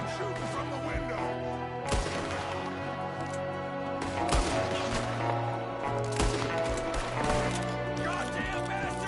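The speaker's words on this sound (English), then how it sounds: "There's another one shooting from the window." Scattered gunshots crack out in a Red Dead Redemption 2 shootout, several sharp reports spread over a few seconds under a steady game score and background noise.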